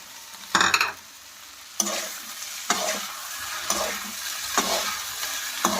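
Eggs dropped into a hot pan for chowmein, with sharp sizzling bursts at the moment of adding, followed by repeated stirring scrapes and crackling fry.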